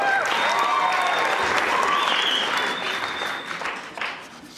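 A concert audience at a 2009 Christmas show applauds a departing opening act, loud sustained clapping from a full crowd with a few cheers, tapering slightly toward the end.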